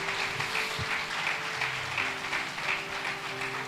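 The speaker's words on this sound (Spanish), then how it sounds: "Dale un aplauso al Rey de Reyes y Señor de Señores." A church congregation applauds steadily, a dense, even wash of clapping with a low murmur beneath it and no break in the sound.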